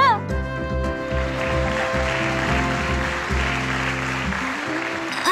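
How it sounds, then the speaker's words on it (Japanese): Clapping in a BanG Dream Girls Band Party game story scene, a busy patter of hands running continuously beneath prominent background music. "勝手に拍手しちゃうんだけど"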